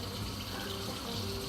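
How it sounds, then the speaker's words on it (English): Hot water runs steadily from a tap, a continuous close hiss and gush, fairly quiet and alone. "I got the hot water going."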